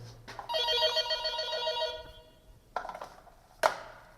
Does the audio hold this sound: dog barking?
no